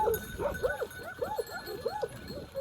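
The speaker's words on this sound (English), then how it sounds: "Now I see why the dogs are excited." Excited dogs barking near sheep pens on a farm, a rapid series of sharp yelping barks, several overlapping in quick rhythm, fairly close.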